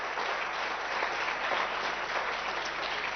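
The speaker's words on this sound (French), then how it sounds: "on peut effectivement l'applaudir" Steady, dense applause from a large audience at a conference on the Mediterranean and North–South divides, filling the whole stretch evenly with no voices.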